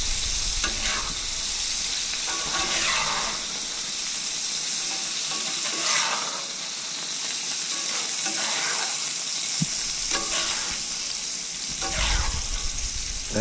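Hamburger patties sizzling in melted butter and meat juices on a grill, a loud constant hiss and crackle with bursts of spatter and stirring scrapes, close up and without speech.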